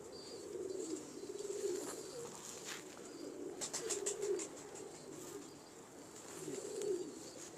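Pigeons coo in repeated soft, rolling calls at an easy rhythm, fairly near and steady, with light rustling and a brief clatter midway.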